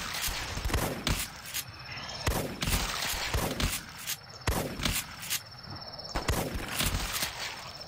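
Gunfire rings out in The Last Stand video game: loud repeated shots in a rough, uneven rhythm over several seconds, with a faint high steady tone underneath.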